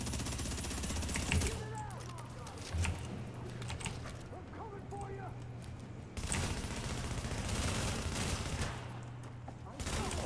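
Rapid bursts of automatic gunfire from the shooter game The Division crackle in dense, loud volleys that stop and restart, with someone talking in short bits between and under the shots.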